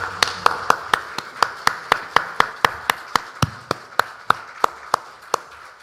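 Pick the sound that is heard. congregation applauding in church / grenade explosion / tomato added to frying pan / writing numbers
congregation applauding in church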